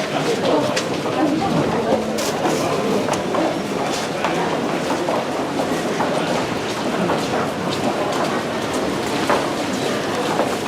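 A London Overground train at Stratford station rumbles and clatters steadily nearby, a continuous rolling rail noise with faint bird calls in the background.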